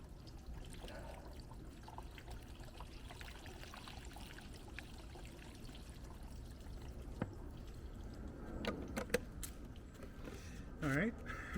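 Water pours and trickles steadily into the windshield gutter of a van, a soft continuous running sound lasting several seconds, with a few louder splashes and brief clunks near the end and a short voice-like sound.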